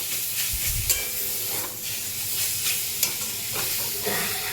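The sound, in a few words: fish frying in its own oil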